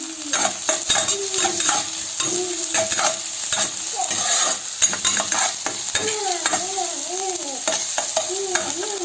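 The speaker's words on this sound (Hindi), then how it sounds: "तो उसके बाद प्याज डाल दिया मैंने, इसको हम थोड़ा सा चला देंगे।" Onions frying on a high gas flame, stirred with a utensil that clinks and scrapes against the pan over a constant close sizzle, with short rhythmic strokes throughout.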